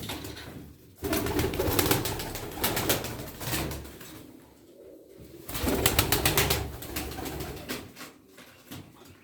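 A purebred bare-legged Çorum tumbler pigeon hen coos in bursts, loud and close, with brief pauses between the rounds of calls and a possible flutter of wings.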